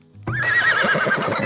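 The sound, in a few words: horse neighing in the video game Farthest Frontier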